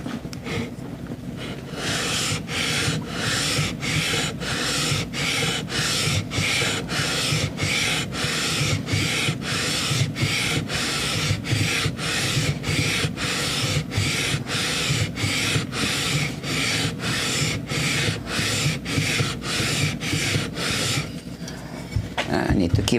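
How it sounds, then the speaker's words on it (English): A taped sanding beam planes the thick part of a wooden Fender Jazz Bass fingerboard in steady back-and-forth rasping strokes, close and loud, about thirty in a row before it stops. "I'm removing material here for now, which is why I taped off this sanding beam here"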